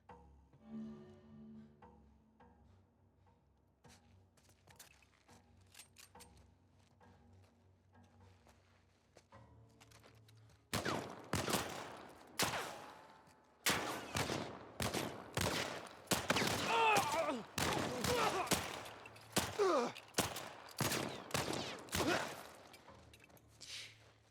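Gunfire erupts during combat in The Last of Us Part I on PS5. After about ten seconds of quiet ambience with faint thuds, rapid, loud bursts of shots follow one another in close succession.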